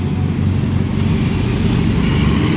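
A large truck rumbling past at a car meet, a loud, steady low engine drone holding close throughout with no voices over it.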